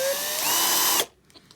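A power drill spins a cheap countersink bit into a brake cylinder, giving a loud, steady whine with a shifting pitch for about a second before cutting off abruptly into near silence.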